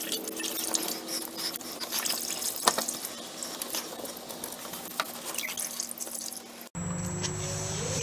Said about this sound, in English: I might just go ahead and push up on this hose. Get the extra fluid out of this hose.